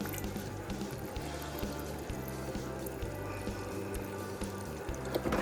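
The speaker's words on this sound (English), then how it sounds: "I am just going to top this off with a little bit more water." Water pours steadily into a pitcher of cucumber lemon water, a continuous close trickling splash that lasts several seconds with no talking.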